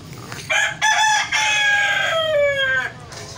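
A rooster crows loudly up close in a drawn-out, wavering call, mixed with hens clucking nearby in a backyard flock.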